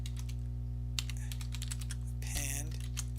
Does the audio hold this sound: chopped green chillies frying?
no